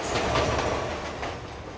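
A New York City subway 4 train rumbles past in a steady, loud roar of wheels and rail noise, with faint rhythmic clatter running through the short stretch.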